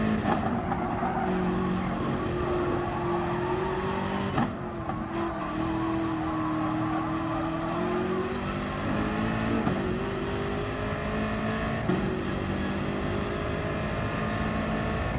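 Several BMW race cars roar on a sim racing track, overlapping engine whines rising and falling steadily through gear changes at constant loudness, with no voice heard.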